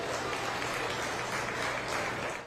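A youth fair crowd applauds the children after a peewee swine showmanship class, even dense clapping held at a constant level before easing off at the very end.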